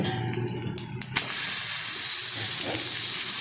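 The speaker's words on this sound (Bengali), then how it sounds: "এবার দিয়ে দেবো এর মধ্যে সিদ্ধ করে রাখা কচুর শাক" Boiled taro leaves land in a hot pan and set off a sudden loud hiss of steam that stays strong and steady after a quieter, clattering lead-in.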